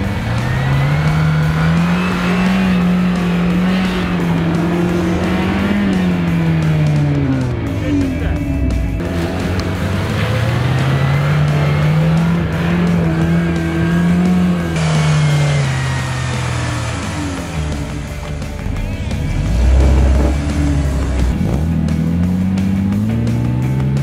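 A UAZ off-road vehicle climbing a hill, its engine loud and close, revving up and down in repeated surges with strained, rising and falling pitch and rough mechanical noise throughout.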